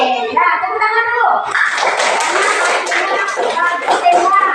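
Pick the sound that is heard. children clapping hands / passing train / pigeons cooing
children clapping hands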